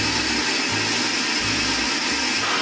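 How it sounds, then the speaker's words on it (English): A vacuum cleaner runs steadily with a loud, broadband whoosh that dips in a few low rhythmic pulses as its nozzle sucks against skin on a neck, with no talking. "I'm gonna go ahead and vacuum my neck."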